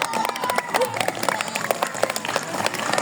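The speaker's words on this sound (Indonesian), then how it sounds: "Tepuk tangan" Schoolchildren in a class clapping together, a lively uneven patter of many hands with a few sharper claps standing out, fairly close and continuing for a few seconds with no talk over it.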